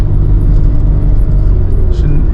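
Engine of a Nissan 300ZX Z32 being driven hard, a loud, steady low rumble and drone filling the cabin throughout, with a brief rise in pitch near the end.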